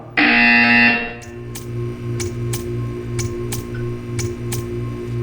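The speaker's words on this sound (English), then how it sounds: "You will hear a buzzer." A loud, steady electronic buzzer from the Portal 2 video game blares for about a second, then gives way to a quieter hum with evenly spaced ticking clicks.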